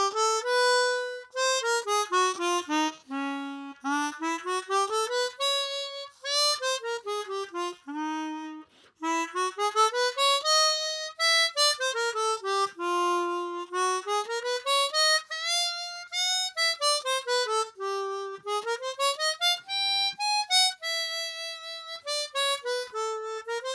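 A harmonica runs a warm-up scale pattern up and down through successive keys, with quick single notes in rising and falling runs, steady and continuous, close and clear, played alone without talking.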